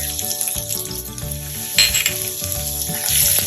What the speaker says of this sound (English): Once you start to smell the fragrant cumin, it's time to add in the garlic and the ginger